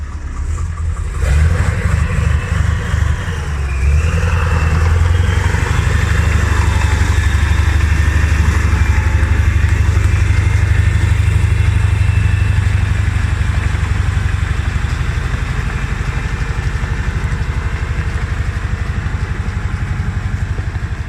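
Deutz diesel engine propelling an AMX13 tank, starting with a rough clatter and settling into a loud, deep, steady rumble with a throbbing low beat that continues for about twenty seconds, close by and without talk.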